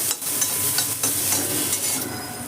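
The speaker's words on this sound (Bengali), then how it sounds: "তো এটাকে আমি আস্তে আস্তে করে ফ্রাই করে নেব।" Capsicum and onions frying in a pan on high flame, a close, steady hissing sizzle broken by scraping stirs of a spatula, with no voices.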